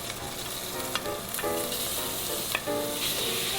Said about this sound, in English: just use the same oil to brown the second batch of beef